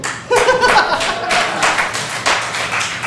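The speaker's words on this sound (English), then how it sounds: "are you clapping because I actually was able to get it on?" A church congregation breaks into clapping, a burst of hands that comes in irregular swells, with chuckles and laughter rising through the room alongside the applause.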